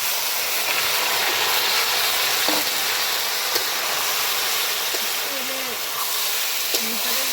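Fried onion, garlic and chopped banana stem hiss and sizzle in a hot pan, a steady loud frying sound with occasional scrape clicks as the mix is stirred, and a voice talks briefly over it.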